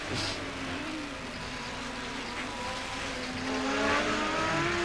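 Touring race cars at Mallala during the 1989 ATCC, engines droning and shifting in pitch as cars race past at a distance, a continuous motor roar with a swell near the end.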